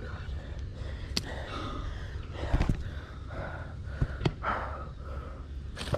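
After landing a giant fish at a spillway in summer, a man breathes hard in heavy, ragged gasps and snorts close to the microphone, with outdoor background noise underneath.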